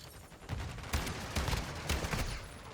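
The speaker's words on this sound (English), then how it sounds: "T-Vest is shooting my riot shield like non-stop" Video game gunfire rains non-stop on a riot shield: a dense, rapid string of sharp bursts and thuds, loud and steady throughout with no voices.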